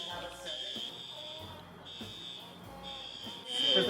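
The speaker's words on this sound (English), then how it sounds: "Oh, there's the smoke alarm. There's the smoke alarm." A smoke alarm set off by a fog machine on an indoor film set, a steady high-pitched electronic tone beeping and sustaining, moderately loud, with a voice briefly heard underneath.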